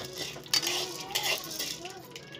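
Popcorn kernels stirred in hot oil in a pan, with close metallic scrapes and clinks of a utensil against the pan over a faint sizzle, and no voices.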